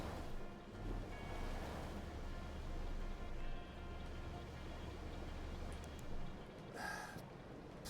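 A boat moving along a river in the video game Outer Wilds, water washing and rushing steadily around the hull with breezy noise, one brief brighter splash near the end.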